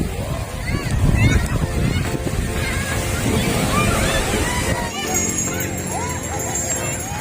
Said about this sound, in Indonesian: Nah, ada ombaknya nih, kenceng banget.